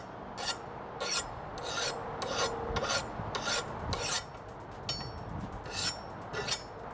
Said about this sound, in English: nice old bastard file